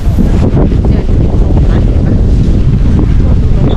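Cool wind blows at a floating house on a river in Kanchanaburi, Thailand, a loud rushing buffet across the microphone with faint water movement beneath, no clear speech.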